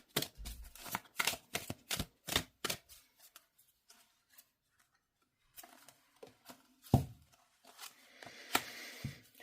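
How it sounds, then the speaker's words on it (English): Cards being shuffled in quick bursts of riffling and soft slaps, then a pause before a few more shuffles and taps, close up with no talking. "Shuffle the minors, just to one side while I shuffle."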